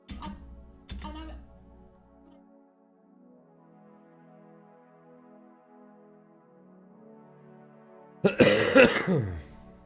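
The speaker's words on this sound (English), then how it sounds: "Excuse me. Yeah, see, I still got this cough." A couple of short coughs at the start, then silence, followed by a louder burst of coughing or throat clearing near the end.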